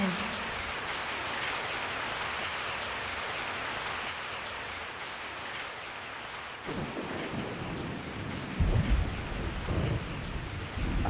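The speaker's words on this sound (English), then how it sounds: "I woke up to the sound of falling rain." Steady rain pours throughout a night scene in the Bio Hazard 3 video game, a dense continuous hiss with low rumbles, and heavier thumps and shifting texture come in during the last few seconds.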